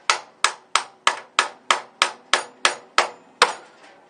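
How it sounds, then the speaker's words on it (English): Eleven sharp, evenly spaced hammer blows strike a fork tool wedged under a 1955-57 Chevrolet control arm's ball joint. The clear metallic knocks are close and loud, each decaying quickly, with no talk. "And I'll line my fork up underneath it, and I'm going to hit it out."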